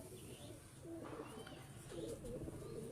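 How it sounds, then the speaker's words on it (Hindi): Sialkoti pigeons coo softly in a few repeated rolling calls over a quiet background, with faint chirps now and then and no speech. "बड़े अच्छे सियालकोटी कबूतर हैं"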